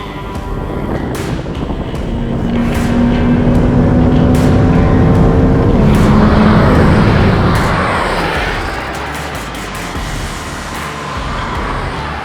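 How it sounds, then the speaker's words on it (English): Ferrari SF90 and McLaren Senna drag race on a test track, engines swelling into a loud, sustained rising roar heard from outside, peaking mid-race then easing back, with wind buffeting the microphone and no talk. "So Ferrari with four-wheel drive winning comfortably in the drag race."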